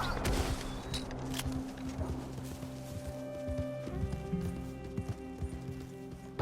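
A horse in Red Dead Redemption 2 breaks into a run, its quick, drumming hoofbeats close and prominent over droning game music and outdoor ambience.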